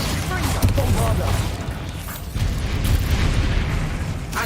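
Bombarda spell exploding in the Hogwarts Legacy video game, a series of booming bursts with a deep rumbling body and crackling tails, loud and close, heard under a voice casting spells.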